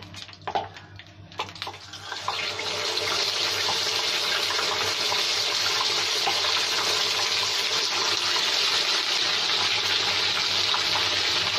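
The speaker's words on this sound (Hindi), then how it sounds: "अब हम इसे अच्छे से खुले ऑयल में फ्राई करेंगे" Green masala fish goes into hot oil after a few clinks and handling noises, and a loud, dense sizzle rises and holds steady and close for the rest of the stretch, with no talking.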